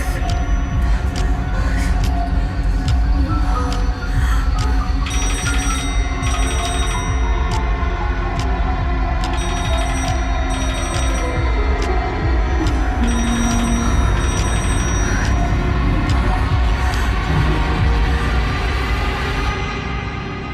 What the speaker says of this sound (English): ringing devices found on rotary telephones within the subject's ears, which may begin ringing continuously